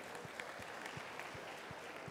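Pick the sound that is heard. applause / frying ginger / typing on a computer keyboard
applause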